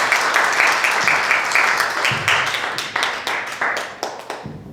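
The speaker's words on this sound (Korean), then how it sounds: "연구하신 분들께 큰 박수 부탁드립니다" An audience at a Korean telecommunications research results-sharing event applauds the researchers, a dense burst of clapping that gradually thins and fades out over several seconds.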